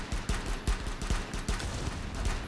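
Hip-fired shots in Rainbow Six Siege ring out in a quick irregular burst of about half a dozen sharp cracks, close and fairly loud over a busy game background, with no one talking.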